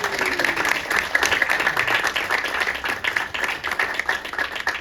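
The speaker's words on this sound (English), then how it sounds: "if you bring it up here, you'll get a marvelous round of applause. There it is." At a Chicago magic lounge show, the audience breaks into a sustained round of applause, many hands clapping in a dense, slightly fluttering wash that stays lively and fairly close for several seconds.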